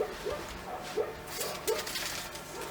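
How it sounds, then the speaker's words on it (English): Dogs bark next door near Sleepy Hollow State Park in Michigan. The barks are faint and distant, coming as short repeated yips in an irregular rhythm over a quiet background, with no speech. "Now you can hear the dogs barking next door."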